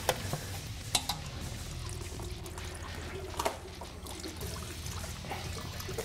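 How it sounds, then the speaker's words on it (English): Transmission fluid pours and trickles out of a Ford F-150 transmission pan as the pan comes free, a steady close liquid stream with a few sharp clicks and drips scattered through it. "once this bolt is out, the pan is free, and there's still quite a bit of fluid in the pan."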